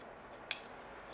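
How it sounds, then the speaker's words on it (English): A sharp pair of scissors makes two crisp, quick snips through fabric, close and clear against a quiet background. "Make sure you got a nice sharp pair of scissors at the point."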